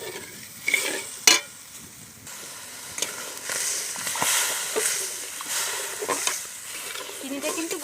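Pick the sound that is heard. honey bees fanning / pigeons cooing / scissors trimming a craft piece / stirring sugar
stirring sugar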